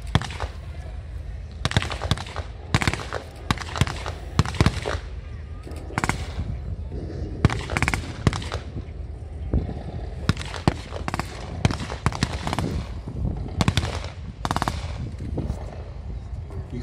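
At a World War One tank battle reenactment, Lewis gun bursts and rifle shots crack repeatedly at a distance, in uneven bursts over a low background rumble.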